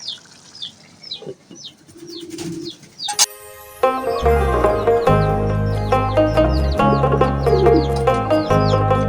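Chickens clucking and calling close by, short repeated clucks over a steady lower droning hum that starts partway through.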